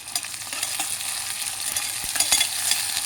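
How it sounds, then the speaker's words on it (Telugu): Chopped onions frying in a pan for a liver curry, a continuous close sizzle with quick scraping stirs of a spatula against the pan, no voices. "తర్వాత ఈ ఉల్లిపాయలు వేసి వేయించుకోవాలండి."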